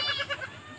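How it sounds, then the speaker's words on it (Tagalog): A goat bleats close by in a short, wavering, quavering call of several quick pulses, loud and alone with no talk over it. "Saan ba nagpunta yung kambing mo?"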